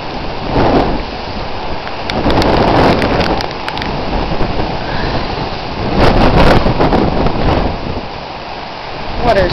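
Hurricane Gustav's wind and rain roar steadily and close, a dense broadband wash that swells in gusts around the third and sixth seconds, with no speech over it.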